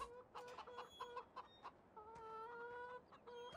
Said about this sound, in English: So around back here, we have our chickens